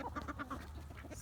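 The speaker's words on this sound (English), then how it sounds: "Sweet little bantam." Bantam chicken clucking and calling outdoors on a cold, snowy morning, a short run of soft, close, rhythmic clucks with no talk.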